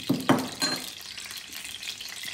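Hot oil sizzling in a pan at the start of a prawn curry, a couple of sharp crackling bursts that settle into a quieter, steady fry.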